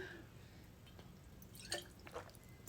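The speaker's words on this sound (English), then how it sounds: "let me take a sip of water" A person takes a few quiet sips of water close to the microphone, soft faint slurps and swallowing clicks in near silence with no talking.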